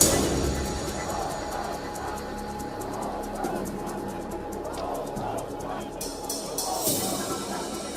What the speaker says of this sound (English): And the persistent chanting by the crowd